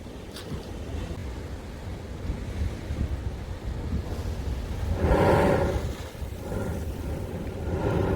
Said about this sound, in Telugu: లావా రాక్లో హోల్ ఏర్పడి అలలు వచ్చినప్పుడు దీంట్లో నుండి నీళ్లు 50 అడుగుల ఎత్తు